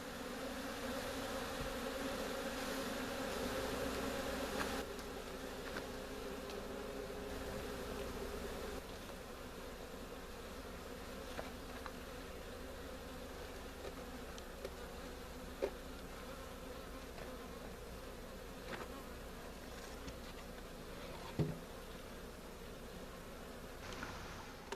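Honeybees buzz steadily around an open beehive, a dense close drone of many insects with occasional individual bees whizzing past and faint rustling and clicks from the hive work.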